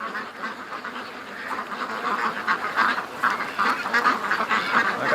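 A flock of ducks on a farm quacks steadily at close range, with many overlapping calls that grow busier and louder as the clip goes on.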